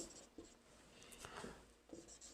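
A pen writing out a maths solution on paper, making soft, close scratching strokes in short bursts with no voices.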